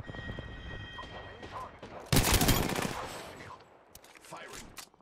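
Loud burst of rapid gunfire erupts in a shooter video game after a few quieter moments, rattling for about a second before trailing off into softer game sounds.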